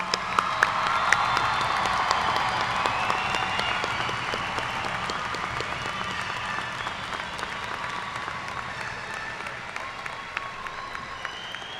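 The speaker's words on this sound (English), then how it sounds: "I was going to suggest that we give another round of applause, so why don't we just do that?" Long, steady applause from a large commencement audience for the graduating class of 2011, dense clapping with occasional cheers, gradually easing in intensity.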